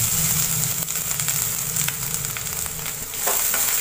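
Grated coconut sizzles and fries in a pan with raisins while a Malabar stuffed banana snack is made, giving a steady, close crackling hiss with no talking.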